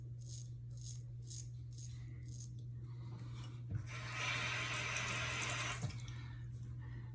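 A straight razor from the Gentleman's Nod Zaharoff Collection scrapes across stubble in a close, steady rasp over a low constant hum, with short bursts early on and a longer, louder continuous stroke in the middle.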